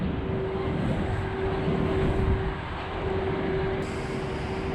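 A roller coaster train at Blackpool Pleasure Beach rolls away along the track, a steady low rumble with a sustained mechanical hum, fairly loud and unbroken throughout.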